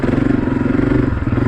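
A 2023 Honda CRF250F dirt bike engine drones close and loud while riding, a steady pulsing four-stroke throb with a rapid regular beat.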